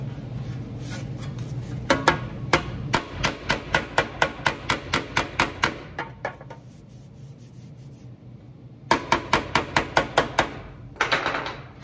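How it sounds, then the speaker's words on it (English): The wide face of a hammer taps a sheet metal body panel in quick, light, evenly spaced strikes, pausing for a couple of seconds before another burst of rapid taps. "Light taps, and you wanna use your wide part of your hammer."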